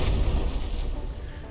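Heavy battleship guns firing in the naval combat game From the Depths, a dense rumbling barrage of booms with strong low-end weight that carries steadily through the whole moment.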